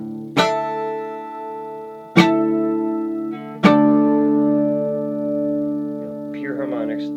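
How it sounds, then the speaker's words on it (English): Three clean, bell-like harmonics ring out one after another from a plywood acoustic guitar with an arched back, each struck note sustaining and overlapping, with a brief warbling tone near the end. "Pure harmonics, nice and clean, no wave, no wave at all."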